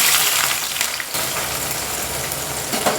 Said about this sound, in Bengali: সাদা তেল আর কিছুটা ঘি অ্যাড করে বেরেস্তাগুলো ভেজে নেবো